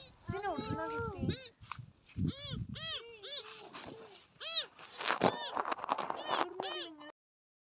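A kitten meows repeatedly, high and close, in a run of short plaintive cries with a few brief pauses between them.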